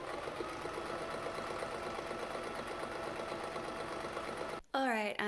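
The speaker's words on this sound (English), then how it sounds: "now everything is cut out and I can actually start sewing" Sewing machine stitching a skirt, a steady rapid mechanical whir running continuously before stopping abruptly near the end, when a brief burst of a voice takes over.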